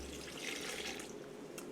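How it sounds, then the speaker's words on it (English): A cup of water is poured into a blender, giving a steady, close splashing hiss for the whole short stretch, alone without talk. "So the next thing I'm going to do is add another cup of water."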